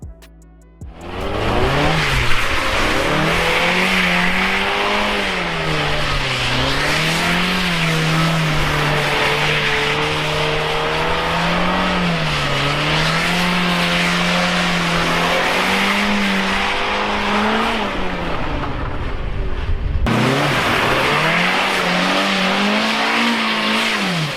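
Car doing donuts during stunt-driving practice on a track, engine revving hard and wavering continuously as the tyres squeal and skid, loud and close for over twenty seconds with a brief break near the end.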